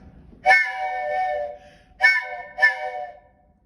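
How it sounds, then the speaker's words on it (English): Toy train whistle blown in three toots, a long first blast then two shorter ones, bright and reedy with harmonic tones, close and clear with no talking. "the old train whistle."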